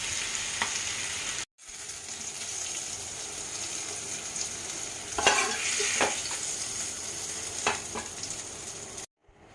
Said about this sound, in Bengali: কাঁকড়োর আলুটাকে ভালো করে ভেজে নিলাম ঢাকা দিলাম